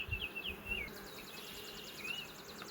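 Honey bees buzzing around an opened hive during a colony split, a faint, steady drone with scattered bird chirps and tweets cutting in from the surroundings.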